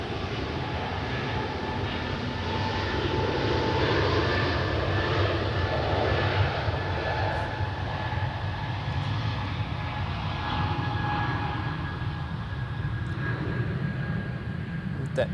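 An Etihad Airways airliner's engines rumble at Zurich Airport, a steady, moderately distant roar that holds throughout, with faint background sounds.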